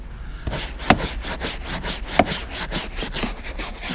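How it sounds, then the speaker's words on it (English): A brush scrubs lightly back and forth over a stained, heavily used spot in the interior of a 1990 Honda Civic, giving a steady run of rhythmic bristly strokes close by with no talking. "I'm going to take my brush now and I'm going to brush in these areas here lightly."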